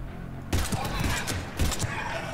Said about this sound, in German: Eins, zwei, drei oder vier Schüsse reichen ja immer bei diesen Dingern zum Glück.